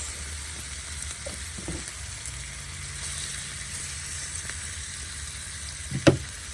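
Bacon strips frying on a Blackstone griddle at a campsite, a soft steady crackle and sizzle close by, with a few light scrapes of a spatula and one sharp clack near the end.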